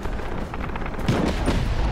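Gunfire and explosive booms from the open-world action game Just Cause 3 during a tank fight, a dense continuous barrage with heavier blasts rising toward the end, with no talk over it.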